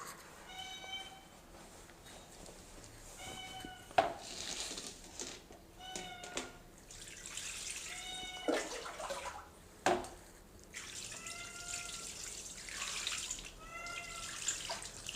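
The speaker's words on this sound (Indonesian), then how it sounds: "kucing itu udah nangis-nangis minta" A cat meows repeatedly while begging for fish scraps during fish cleaning, several distinct mid-pitched cries spread through the clip over running water and kitchen clatter.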